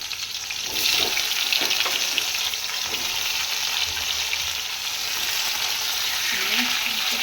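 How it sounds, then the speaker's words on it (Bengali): Young jackfruit sizzling steadily in hot oil in a home kitchen, a dense continuous frying hiss with occasional stirring scrapes, close and loud, with no one talking. "তেলটা আমার গরম হয়ে গেছে, এবার ইঁচড়টা দিয়ে দেবো।"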